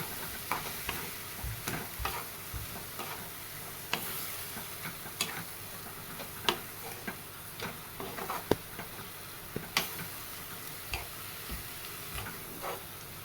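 Roasted split green moong dal gets stirred into chopped dill greens in a pan. A spoon scrapes and taps out irregular, sharp clicks over a soft, steady sizzle, close by and with no voices.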